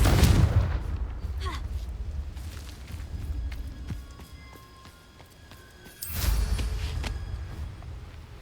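A Confringo blasting curse in the Hogwarts Legacy game: a heavy booming blast at the start with rumbling decay, then a second loud blast several seconds later, with game music tones in between.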